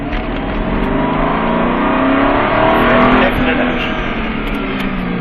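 An Aston Martin V8 Vantage on the Circuit de Lyon, its engine droning loud and steady from inside the car as it accelerates, with a rising, then easing pitch.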